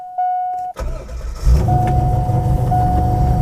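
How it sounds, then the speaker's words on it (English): A C5 Corvette Z06 engine cold start: a brief chime and the starter whir, then the V8 catches with a loud burst and settles into a rough, close, steady idle. "So let's do a cold start here."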